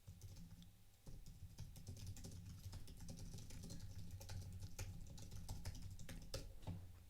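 Steady typing on a computer keyboard while writing a blog post, a dense run of quick, close keystroke clicks with a brief pause near the start, no voices.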